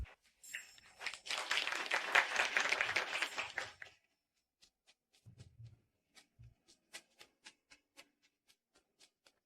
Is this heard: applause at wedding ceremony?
yes